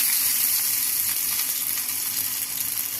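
Bottle gourd leaf pakoras, fried two at a time in hot oil, give a continuous bright crackling sizzle that holds steady and close throughout with no talk.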